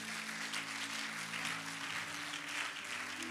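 A church congregation applauding and acclaiming during a pastor's sermon, a steady wash of clapping and cheering voices that stays even and fairly distant throughout, with a low hum underneath.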